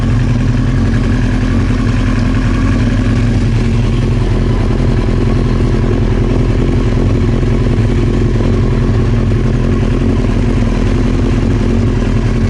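A Honda CBR 900 Fireblade motorcycle idles steadily and close by, a continuous mid-pitched engine drone with light mechanical clatter and no break across the whole stretch.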